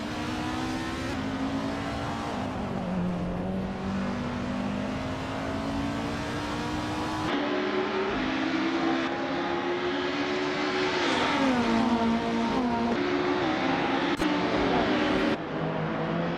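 A 1989 Ferrari F40 Competizione and other race cars in a racing video game, with engines revving and shifting through gears in a continuous loud, whining drone as cars jostle close together.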